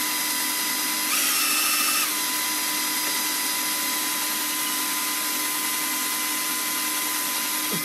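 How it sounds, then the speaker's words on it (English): A power drill fitted with a blunt bit runs steadily and loudly, whining for nearly eight seconds as it fails to bore through an existing hole in an amplifier's casing, with a brief rise in pitch early on. "this drill bit is so blunt, it can't even drill through a hole that's already there"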